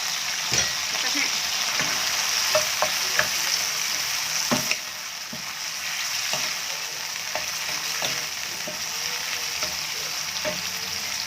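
Textured soy protein stir-fried in a hot pan for a vegetarian sunflower-sprout and mock-squid dish, giving a steady close sizzle punctuated by scattered clicks and scrapes of the spatula.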